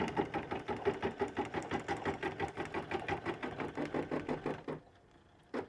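A sewing machine stitching a dish towel hanger runs in a steady, rapid mechanical chatter of needle strokes, fairly loud and close, before stopping near the end with only faint background left.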